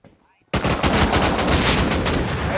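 Dense, loud automatic gunfire bursts out suddenly after a quiet half-second and continues as rapid, overlapping shots in the console survival game Rust, played on an Xbox server.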